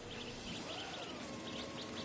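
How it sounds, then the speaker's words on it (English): A white-throated bee-eater in a Spider-Man 2 video game gives a string of faint, repeated high chirps over a steady insect-like ambient hum, quiet and distant, with no talking. "albicollis, the white-throated bee-eater bird"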